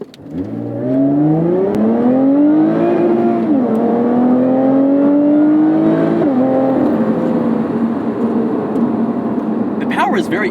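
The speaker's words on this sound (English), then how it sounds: "Beautiful exhaust note. All right, we're not going to brake launch this, let's just do a straight." A 2020 Lotus Evora GT accelerates hard in a straight run, its exhaust note climbing steadily in pitch with two brief dips at gear changes, loud and close throughout.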